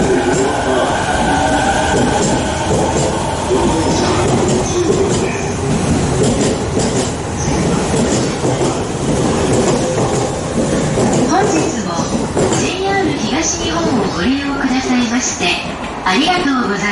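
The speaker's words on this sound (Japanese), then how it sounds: "The local train, bound for Tokyo, will soon arrive on track number 2." A JR local train bound for Tokyo rolls loudly into a Japanese station on track 2, wheels rumbling and clacking with some squealing as it slows, while announcements and voices carry over it.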